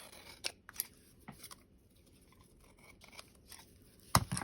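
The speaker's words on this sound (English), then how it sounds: "now I'm going to trim off that paper" Scissors snip through paper in a handful of sharp, irregular cuts, close and crisp, with quiet pauses between them and a louder final snip.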